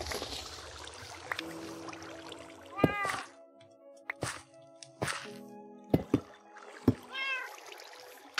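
A cat in the Minecraft video game meows a few times, with short rising calls standing out over quiet in-game ambience and faint background noise.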